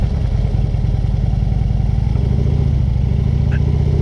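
Close, continuous motorcycle engine drone with a clattery, throbbing pulse while riding on a street near a car show, steady and loud with no talk.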